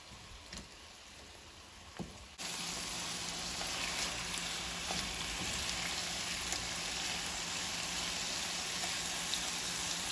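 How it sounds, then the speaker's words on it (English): Jackfruit sautés in a pan on medium heat, giving a steady, even sizzle. The sizzle is fairly soft for a couple of seconds, then grows fuller and denser, with faint crackles throughout. "it's been about 5 minutes that I've been sauteing this on a medium heat"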